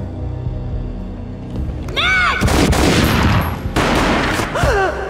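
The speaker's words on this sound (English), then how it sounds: "A gunshot boomed and she fell down in slow motion." Heavy gunfire in the Max Payne video game, with dense booming shots and bursts under swooping slowed sound effects, loud and close, with a brief shout in the mix.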